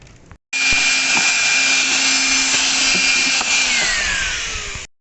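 A hoover vacuum cleaner sucking leaves and debris out of the air filter housing of a Peugeot 308 1.6 HDi, switching on abruptly with a loud, steady whine and roar, then winding down as it stops.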